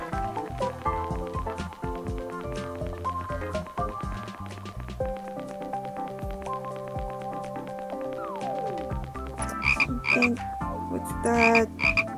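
Bullfrog croaking in the mobile game Play Together, repeated throaty croaks mixed into busy, melodic background game music with tapping effects, moderately loud and steady with no talking.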